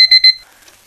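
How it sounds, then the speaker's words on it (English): An alarm clock ringing in a few sharp, loud, high-pitched beeps packed into the first fraction of a second, then cutting off into near silence. "Alarm."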